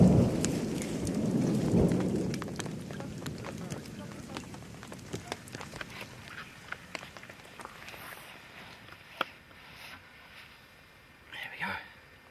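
A heavy thunder rumble rolls in at the start, then steady rain patters with scattered drips and knocks, a short rustle near the end.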